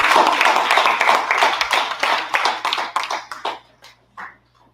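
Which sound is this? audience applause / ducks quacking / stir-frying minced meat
audience applause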